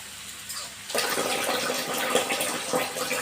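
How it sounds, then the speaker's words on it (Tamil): Water poured into a pan of sautéed mango and salt while making mango pachadi, a steady close splashing pour that starts abruptly after a quiet moment and runs to the end. "ஒரு அரை டம்ளர் பாட்டில் தண்ணி ஊற்றிக்கணும்"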